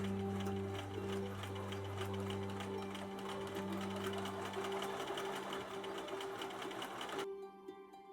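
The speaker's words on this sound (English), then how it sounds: "Then sew the elastic into a loop." A sewing machine stitches elastic into a loop, a steady close mechanical whir with rapid needle ticking that runs continuously for about seven seconds and then stops abruptly.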